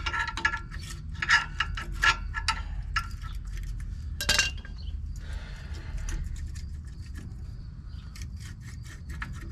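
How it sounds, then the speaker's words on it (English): A brake caliper is pried out with a small pry bar: scattered metallic clinks and ratchety scrapes come close by, with one sharper burst midway, over a low background hum and no speech. "So I'll take this little pry bar thing and pry this caliper out."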